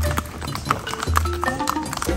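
Horse hooves clip-clop during a ride, with several close, irregular hoof strikes over outdoor background noise.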